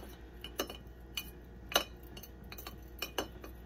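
Spoon stirring homemade tea in a glass, sounding as a series of sharp metallic clinks and taps at irregular intervals, close and fairly quiet, with no talk.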